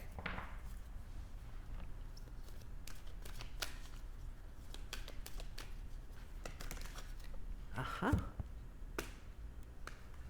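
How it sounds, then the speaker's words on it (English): Close, quiet riffling and snapping of a Now I Understand oracle card deck being shuffled, with irregular crisp card flicks and taps before a draw. "Now let's get a final card from the Now I Understand Oracle deck."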